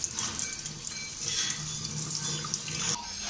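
Steady tap water running into a sink while a hilsa fish is washed for a pan-fried hilsa recipe, a continuous close splashing hiss with no talking.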